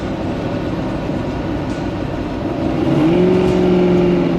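A 1967 Ford Mustang GT500E Supersnake restomod drives along and accelerates, a steady engine drone swelling into a rising whine as the throttle opens near the end.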